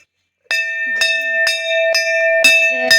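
A temple bell is struck hard and repeatedly, about six loud metallic clangs at an even half-second rhythm, each ringing on with a sustained, shimmering tone, close up and with no talking.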